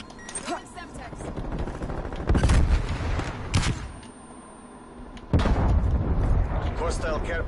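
A Semtex grenade detonating in Call of Duty Black Ops Cold War on the Nuketown map, with two heavy blasts amid ongoing gunfire bursts and game voice callouts.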